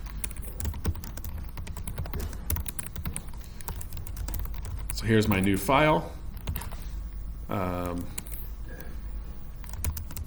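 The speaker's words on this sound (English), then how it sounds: "you can see I'm typing ls after every command to show you the effect of it" Rapid clicking of computer keyboard keys as command-line commands are typed, a near, steady patter running throughout while someone speaks briefly.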